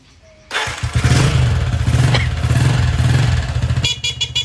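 Rusi TC-125 motorcycle powering up: a brief quiet, then the engine catches and runs with a loud, busy, near idle before settling into a quicker pulsing beat.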